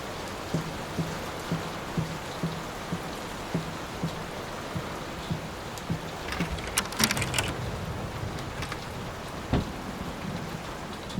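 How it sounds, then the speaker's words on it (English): Heavy storm rain in a horror video game, a steady hiss of downpour with a faint repeating tapping, a burst of sharp rattling splashes midway and a low thunder thump near the end. "Will this storm ever run out of rain?"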